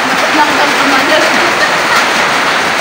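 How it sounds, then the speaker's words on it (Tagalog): Heavy rain pours down in a steady, dense broadband wash, loud and close, with no breaks across the whole stretch. "Yan, lumalakas na yung ulan mga kabiday."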